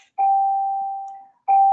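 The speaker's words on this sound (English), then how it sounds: "That was the bell here" A school bell rings during a class, two clear sustained electronic chime tones, the first holding steady for about a second before fading and the second starting just as the clip ends, loud and alone with no talking.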